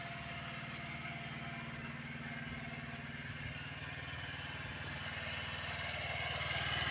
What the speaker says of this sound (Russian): Первый пробный запуск уже полностью собранного двигателя.